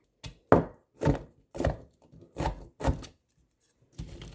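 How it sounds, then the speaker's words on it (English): A knife chops garlic on a cutting board in about seven separate, fairly loud thunks, spaced unevenly with short pauses between. "let's get it chopping"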